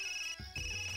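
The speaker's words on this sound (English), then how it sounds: "suddenly my ringtone echoes out in this completely empty place" A phone ringtone from the video game Persona 4 Ultimax, two steady high electronic tones held continuously, briefly cut by a low thump partway through before the tones resume.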